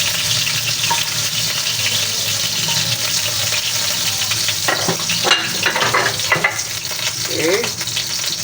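Chicken pieces fry in oil in a pan, a steady close sizzle and crackle with occasional stirring clatter and scraping toward the end, no voices.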